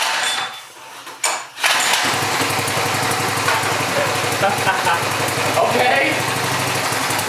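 A petrol pressure washer engine is pull-started and catches, settling into a loud, steady running drone close by after a brief pull; a person speaks briefly at the start.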